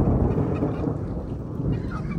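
Thunder rumbles through a storm in bad weather, a loud, deep, continuous roll with some wind noise and no voices.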